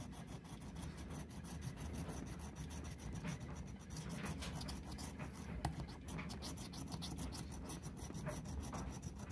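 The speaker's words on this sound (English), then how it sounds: "And we're scratching with Scratcher Chick Coin." Coin scratching the latex off a lottery scratch-off ticket, a steady close-up rasping rub that continues without pause, with short scraping strokes bunched toward the second half and no talking.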